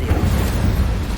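Incendio fire spell blast in the video game Hogwarts Legacy, a loud, heavy, booming whoosh of flame with deep rumbling low end, sustained briefly and close.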